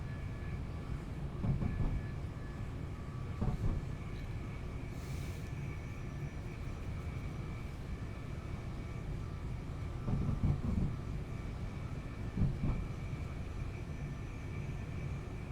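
A Class 700 Thameslink train in Trainbow livery passes in a train simulator game, a steady low rumble with periodic rhythmic clunks of wheels over rail joints, fairly near and continuous, with no talk.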